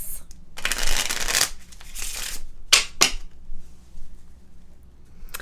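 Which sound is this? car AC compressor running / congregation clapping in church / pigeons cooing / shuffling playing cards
shuffling playing cards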